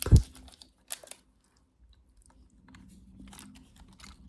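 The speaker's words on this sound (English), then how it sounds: "if you don't like gum chewing, now would be the time to leave" Close, quiet gum chewing in a whispered ASMR setting: a sharp crunchy bite at the start, a few soft wet clicks, then faint sticky smacking against near silence.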